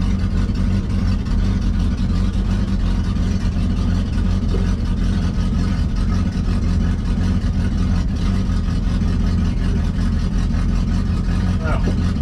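A 1967 Ford Mustang engine running while the car drives straight, a loud, steady low rumble with road noise that continues unbroken throughout.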